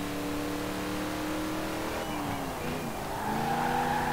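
Car launching hard and accelerating in Forza Horizon 4, rear wheels spinning away power, engine note climbing through revs with a brief tire squeal and gear change, loud and close, no talk.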